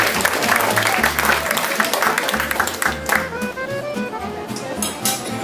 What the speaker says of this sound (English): you could give her a round of applause for that